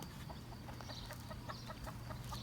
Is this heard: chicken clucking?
yes